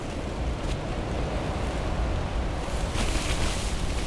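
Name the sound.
blizzard wind gusts hitting a tent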